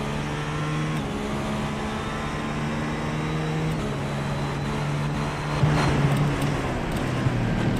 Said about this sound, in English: But we're going to ride on board the 817 of Maverick McKenna.